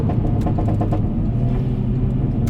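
A loud, steady engine roar from a 2018 Hyundai Elantra Sport running at full throttle, a deep continuous rumble with no talk over it.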